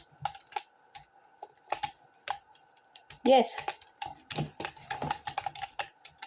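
Clicky keystrokes on a computer keyboard used for gaming, tapped in scattered bursts with a quick flurry partway through, while a voice speaks briefly nearby.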